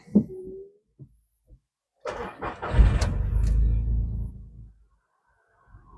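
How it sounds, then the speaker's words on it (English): A car engine cranks and catches after a mobile radio installation, a brief sputter then a loud rumbling start settling into a steady idle for a couple of seconds before cutting off, close and alone. "Okay, car starting, that's a good sign."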